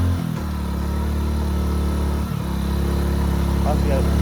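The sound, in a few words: car engine climbing steep hill road in second gear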